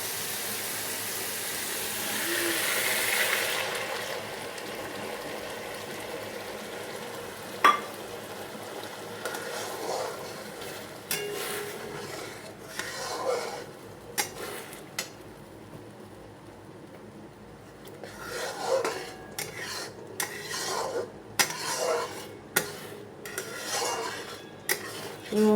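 A spice paste is stir-fried in oil with fried onion-ginger paste for Bengali doi rui fish curry: faint sizzling under repeated, irregular scrapes and clinks of a spatula against the pan, growing busier toward the end.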